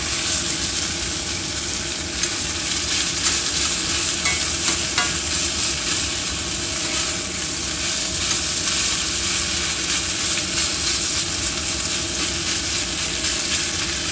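A spoon stirs and scrapes milk in a hot pan, loosening browned bits from the bottom while making breakfast gravy. The steady, close sizzle runs throughout, with faint scraping and clinks mixed in.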